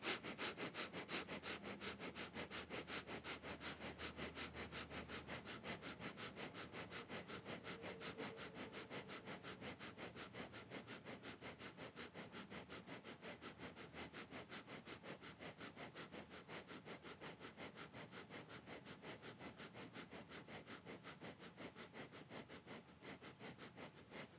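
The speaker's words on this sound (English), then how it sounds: "breath of fire, eyes locked at the tip of the nose" Breath of fire, the rapid Kundalini yoga breathing: fast, even, forceful nasal exhales pumping in a steady rhythm of roughly two per second, close and continuous for the whole stretch with no talking.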